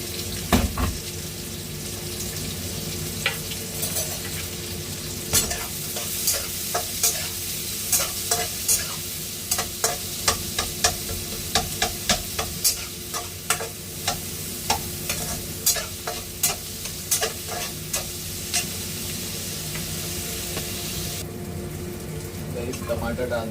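Onion and capsicum stir-fry for fried rice in a hot pan. A constant sizzle runs throughout, punctuated by regular rhythmic scrapes and clacks of the spatula, close and busy.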